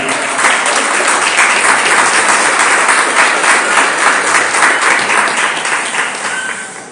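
Church congregation applauding together during a sermon, steady sustained clapping from many hands filling the room at close range, holding loud throughout and tapering slightly at the very end.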